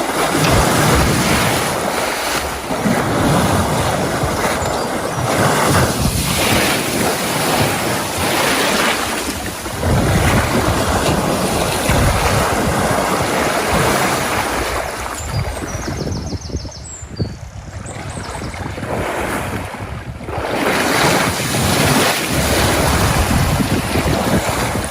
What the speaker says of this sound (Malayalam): വെള്ളത്തിൽ മുങ്ങിയും പൊങ്ങിയും ആസ്വദിച്ചൊരു കുളി.